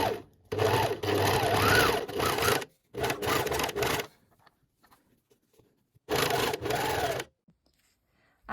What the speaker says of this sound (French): moi j'enlève cette partie là pour surjeter que cette marge de couture